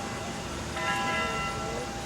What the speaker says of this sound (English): they got the chimes in Washington Cathedral